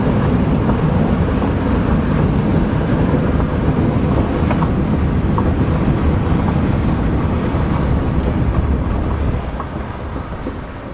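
A Honda Accord cruising on the road in summer, with a dense, steady rumble of road, engine and wind noise filling the cabin, unbroken and loud, thinning slightly near the end.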